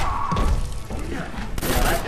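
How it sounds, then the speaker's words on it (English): Rapid gunfire from Injustice: Gods Among Us, fighting-game shots and heavy thumps bursting close and loud, with a sharp cluster near the end. "I deal more damage with my guns, the more I stand still and deal with damage with guns."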